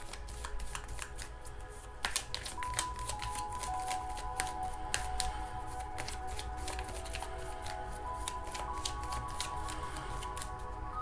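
Playing cards are shuffled and riffled by hand in a quiet indoor room, giving a long run of quick, close, crisp flutters and snaps at an even pace.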